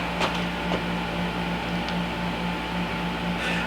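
A computerized sewing machine stitches out a quilting pattern with a steady mechanical whir and hum, broken by a few soft clicks.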